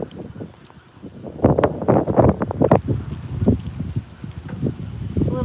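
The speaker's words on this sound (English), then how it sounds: "It's a little less windy." Blustery wind buffets the microphone in rumbling gusts, growing stronger after the first second and staying loud throughout.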